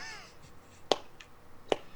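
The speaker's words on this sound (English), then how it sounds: "That gets a modest slow clap." Two sharp, close hand claps, spaced slowly almost a second apart, in a quiet room with faint background noise.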